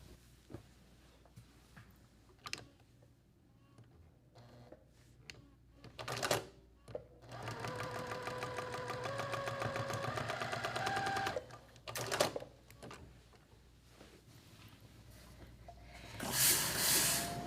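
A sewing machine stitching across a quilt seam a quarter inch from the edge, running in a steady mechanical whir for several seconds amid quieter rustling and handling noises, fairly faint and close.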